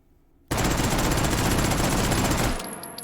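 A Mauser carbine fires a sustained full-auto burst in the H3VR virtual reality game. Loud, rapid shots sound close up for about two seconds after a sudden start, then stop with a short echoing tail.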